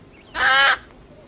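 Hen giving a single short, harsh squawk close by, alone against a quiet background.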